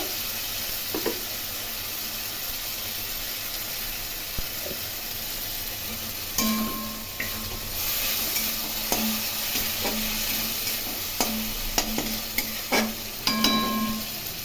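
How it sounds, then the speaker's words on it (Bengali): A paste of garlic, onion and ginger fries in a pan with a steady low sizzle, while a spoon scrapes and stirs in irregular clinks and knocks that grow busier partway through. "রসুন পেঁয়াজ আদা সে পেস্ট খানিকটা আমি দিয়ে দিলাম খুব ভালো করে কষিয়ে নেবো"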